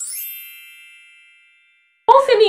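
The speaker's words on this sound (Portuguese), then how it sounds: "ativar o sininho de notificação" Single bright notification bell ding rings out cleanly and decays over about a second and a half, then silence before a voice begins speaking.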